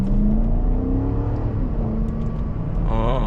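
A BMW X5M launches hard and accelerates with a loud, steady engine roar that climbs in pitch and then shifts near the end, heard close from inside the car with no talking.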